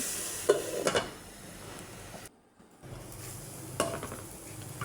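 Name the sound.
stirring red amaranth leaves fry in a pan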